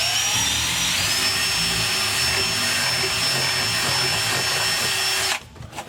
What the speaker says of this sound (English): we're just going to drill straight through